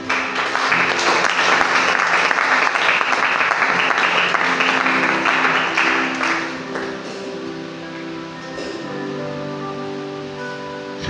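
A church congregation claps and cheers in praise during a Sunday service, a dense, loud wash of applause that fills the first six seconds before easing into softer sustained clapping and voices.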